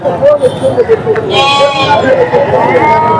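Sheep and lambs at the Gudur livestock market in Baireddipalli bleat close by, one long wavering cry standing out over a busy bed of crowd noise and people talking.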